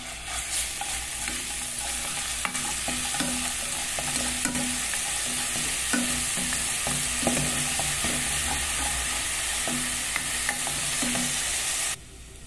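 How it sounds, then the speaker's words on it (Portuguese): Garlic and pepper fry in oil in a steady, close sizzle for several seconds, with regular stirring scrapes and clicks at a gentle rhythm and no voices, until the sound drops off at the end. "E aqui vou refogar alho e pimenta"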